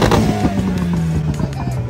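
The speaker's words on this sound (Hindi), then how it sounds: "आप अवंती का आवाज सुन सकते हो" A DC Avanti sports car engine revving up close, loud and steady with rising and falling pitch for about two seconds, without any talking over it.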